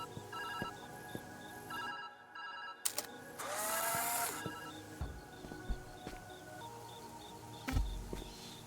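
A phone rings in the puzzle video game Viewfinder. A repeating electronic ringtone pattern plays at moderate volume with a few clicks and a brief whooshing swell, and no voices are heard.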